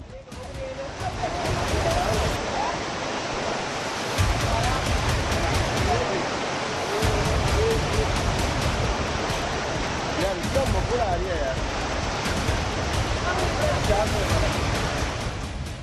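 Floodwater surges and roars through a market street, strong enough to sweep away a parked car, a loud, continuous rushing wash with no pauses.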